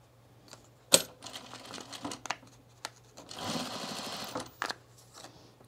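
A sewing machine stitches through paper while a candy bowl is made, with a sharp click and then short bursts of rapid mechanical whirring and tapping, fairly close and with no talk.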